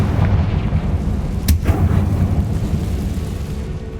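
Confringo blasting spell in Hogwarts Legacy, a sustained rumbling boom with a sharp crack near the middle, loud and close, no voices.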